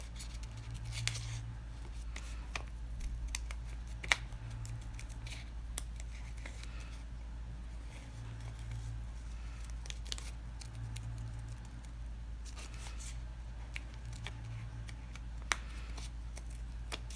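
Scissors snip through tissue paper in quiet, intermittent cuts, soft crisp clicks spaced irregularly over a low steady hum, with no talking.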